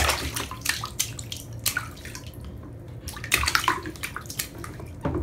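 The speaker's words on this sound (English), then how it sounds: "That's good splashing." A child splashing water in a bathtub, a run of close, irregular slaps and sloshes with brief quieter gaps between bursts of splashing.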